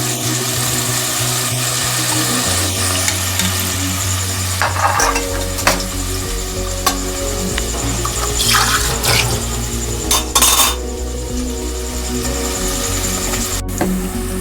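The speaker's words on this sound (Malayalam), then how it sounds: "നന്നായി ഫ്രൈ ആക്കി എടുക്കണം കൂണ്" Mushrooms sizzle loudly and continuously in hot oil, with occasional scraping and stirring clinks and a steady low hum beneath.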